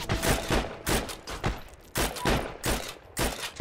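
Gunfire in the online war game Heroes and Generals, with repeated loud bursts of rapid shots in a fast irregular rhythm, several volleys in quick succession.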